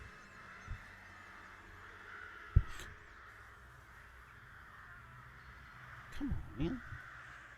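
Crow caws played as a sound effect during a Dungeons & Dragons live play session, a few scattered harsh calls against quiet room tone, with a brief spoken remark near the start.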